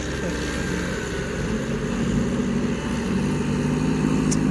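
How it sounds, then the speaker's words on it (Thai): A farm tractor engine rumbles past at steady loud volume, a continuous coarse chugging drone with mechanical rattle and no voices over it. "โอ้โห รถไถมาแรงมาก"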